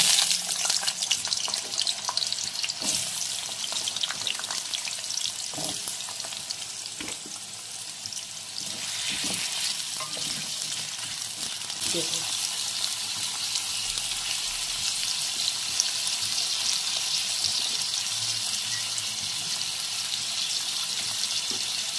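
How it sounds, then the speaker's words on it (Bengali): Cut potatoes fry in hot oil in a wok, giving a steady, loud, hissing sizzle that continues unbroken with occasional faint stirring knocks. "তেল গরম হয়ে গেছে, আমি এবার আলুগুলোকে ভেজে নেব"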